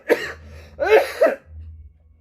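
Two bursts of harsh coughing, a short single cough followed by a longer double cough, close and loud against a faint low hum.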